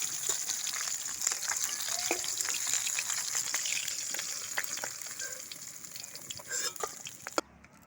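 Fish frying in oil in a pan for a fish curry with banana stalk, a steady bright sizzle with scattered crackles and pops, close and continuous before a sudden stop.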